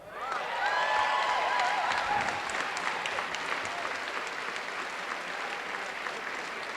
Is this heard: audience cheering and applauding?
yes